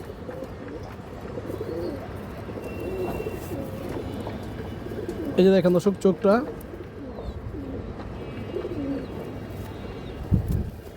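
A Safchila pigeon gives a brief burst of throaty cooing close by, a few pulses lasting about a second, while someone talks over a steady background murmur.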